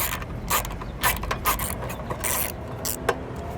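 Ratcheting wrench clicks while a bolt comes out of a power awning roller, with a string of short mechanical bursts and rattles, fairly close and with no talking.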